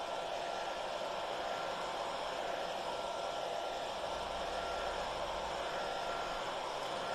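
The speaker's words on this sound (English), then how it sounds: "I'll just hit that with the hairdryer a little bit." A hair dryer blows steadily throughout, drying stencil paint on a sign, a constant broadband whoosh with a low hum, no voices.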